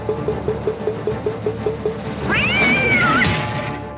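A cat's loud yowling meow rises over a busy pinball game's electronic sounds and a steady rhythmic mechanical pulse, the cat sound thrown as a projectile effect in the game's castle-attack feature.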